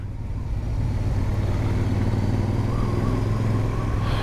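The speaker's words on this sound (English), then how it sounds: "still loving the sound of these exhausts" Royal Enfield Shotgun 650 or Super Meteor 650 twin exhaust rumbling steadily at close range, a deep even drone with a slight rise in level after the first second and no talking.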